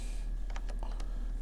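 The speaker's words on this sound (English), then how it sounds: "I'm gonna go in here and I'm gonna type equals" A computer keyboard is tapped with a handful of quick, soft clicks spaced across about a second over a steady low hum.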